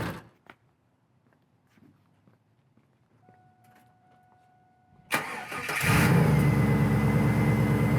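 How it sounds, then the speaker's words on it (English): A 2001 Camaro SS SLP fires up after a stretch of quiet shuffling, its V8 catching abruptly and settling into a loud, steady rumbling idle up close. "let's do a startup of all the Camaros."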